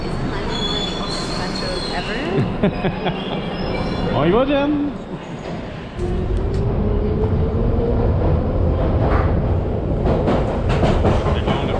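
A modern London Underground metro train arrives and runs, with loud squealing wheels and rumbling carriages, a rising whine as it moves off, and brief talk partway through.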